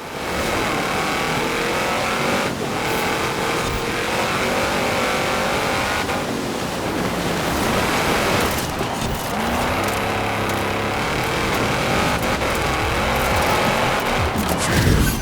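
A 2016 Jeep Trailcat driven fast in Forza Horizon 4 during an off-road race, its engine roaring loudly and continuously, rising and falling through revs and gear changes.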